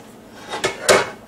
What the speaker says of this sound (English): Let me place another saucepan